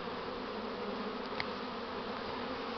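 Swarming honey bees buzz in a dense, continuous drone near a hive outdoors, steady and fairly loud with no voices.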